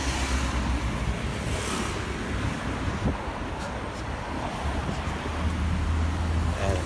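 Road traffic noise in a traffic jam, a continuous low rumble of idling and creeping vehicles mixed with wind buffeting the microphone, steady and moderately loud with no clear voice on top.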